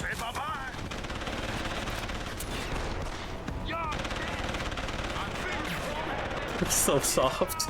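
Gunfire in a shooter video game: continuous rapid automatic shots and impacts, loud and dense throughout, with a brief spoken voice over the action and a louder burst near the end.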